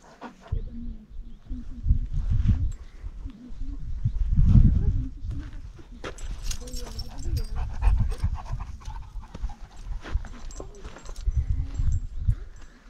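A dog pants rapidly and heavily up close on the windy summit of Pilsko mountain, the rhythmic breaths rising and falling with a few faint rustles and footsteps, no talking.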